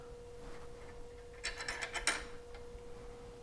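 A nut is screwed by hand onto a Harley-Davidson Street Glide saddlebag support, giving a short burst of faint metallic ratcheting clicks in the middle against a quiet background with a steady hum.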